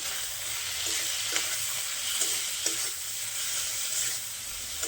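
Spiced potato, eggplant and puti fish curry being stirred in a village kitchen pan, a steady sizzle with scattered spoon scrapes and clinks, no talking.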